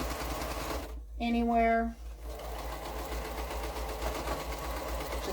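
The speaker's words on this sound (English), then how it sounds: "I like sewing with the pieced strip on top" A sewing machine stitches a pieced quilt strip in a short steady whirring burst of about a second, with a person talking before and after it.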